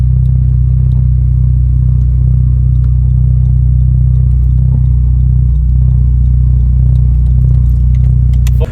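A Honda Civic Si with a swapped K20C4 engine drives steadily with a loud, constant low rumble throughout and no talking.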